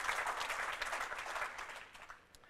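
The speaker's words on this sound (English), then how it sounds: "you can give yourself a round of applause for that" A room of people at a conference presentation applauds in a brief burst of clapping that gradually fades out.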